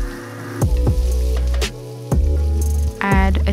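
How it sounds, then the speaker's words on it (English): Onions sautéing in butter in a pan, a steady sizzle broken by a few squishy stirring and shifting sounds, close and fairly loud. "In the same pan, add a spoon of butter and saute your onions"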